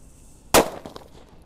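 A single "gorila" firecracker bursts with one sharp, loud bang that fades quickly, followed by a brief crackling tail against quiet surroundings.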